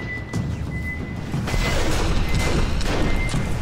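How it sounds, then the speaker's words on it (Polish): Loud, continuous rumbling blasts with sharp cracks and debris-like noise in Aliens vs. Predator, a dense explosive game soundscape with a faint steady tone. "Uwaga, on wybucha."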